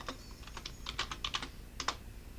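Quick bursts of keystrokes on a computer keyboard as a chmod command is entered in a Linux terminal, close and crisp clicks in short uneven clusters with brief pauses and no talking.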